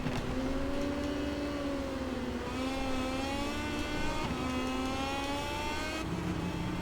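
A pack of five or six Moto2 racing motorcycles in MotoGP 23 at Le Mans, their engines whining together close up as they bunch into a corner, pitches rising and falling steadily.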